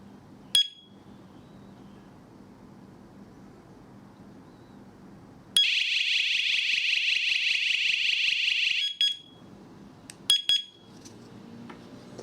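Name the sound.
Chuango WS-105 alarm siren sounding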